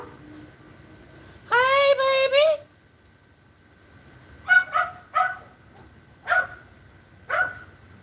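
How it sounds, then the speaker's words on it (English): A dog lets out a long, high whining cry, then follows with five short, sharp barks spaced about a second apart, fairly close and loud against a quiet background. "I like to talk to that other dog"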